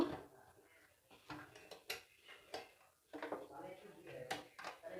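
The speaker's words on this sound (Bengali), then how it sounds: "প্রেসার কুকারটা বন্ধ করে দেব।" Lid of a pressure cooker being closed, a series of close metallic clicks and clanks in uneven rhythm, fairly quiet, with short pauses between handling knocks.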